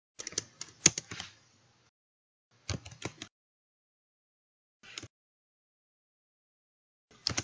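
Short clustered bursts of computer keyboard typing entering data into a spreadsheet, crisp close key clicks in four separate flurries with silent pauses between them, no talk.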